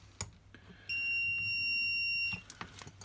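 A Megger TPT320 voltage tester's audible indicator sounds one steady high-pitched beep lasting about a second and a half, close and clear, with light handling clicks before and after.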